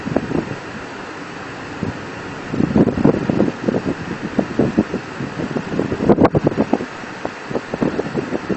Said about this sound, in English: the wind is blowing briskly